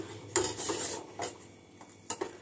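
A spoon stirring in a metal pot of boiling millets, making several distinct clinks and scrapes against the pot at irregular intervals, close and clear with no talking.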